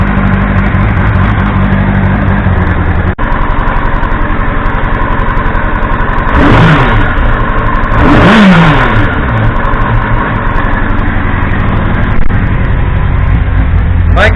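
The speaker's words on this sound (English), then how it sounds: "Bike appears to be running great." A Triumph Speed Four motorcycle engine idles steadily at about 1500 rpm after an electrical repair, with a loud, even mechanical drone and two brief swells partway through.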